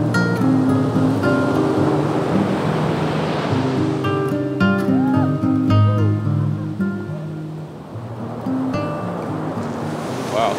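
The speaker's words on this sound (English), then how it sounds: "It's just this little tiny beach." Waves wash onto a tiny tropical beach on a small Southeast Asian island, a loud steady surf rush with wind across the microphone and faint other sounds mixed in.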